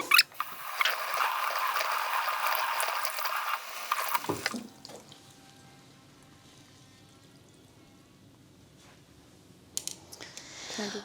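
Water from a sink tap runs loudly over a paintbrush being rinsed for about four seconds, then cuts off, leaving quiet clicks and faint handling noises before a brief splash near the end.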